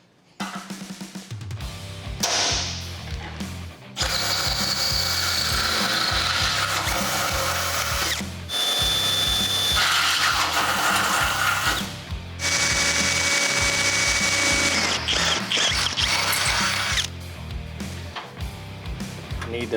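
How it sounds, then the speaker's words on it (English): A power drill bores holes through the steel frame of a C10 truck during a long-bed to short-bed conversion. The loud, sustained whine runs in long stretches with brief pauses between them, and no speech is heard. "Now the next step, drill the holes in the side here and get these attached permanently."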